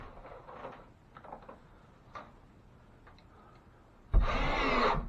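A screw gun drives a screw into drywall, one short loud whirring burst near the end after several seconds of faint ticking and handling sounds.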